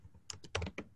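Computer keyboard typing: a short quiet burst of several quick, soft key clicks in an uneven rhythm, heard alone.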